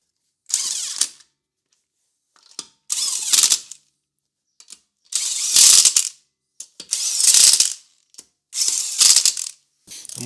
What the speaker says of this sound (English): Reinstall the wheel and snug down the lug nuts.